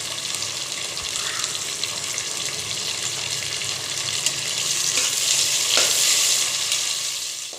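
Tomatoes and onions frying for chicken biryani, a dense close sizzle that swells louder midway as the mixture is stirred, with no one speaking.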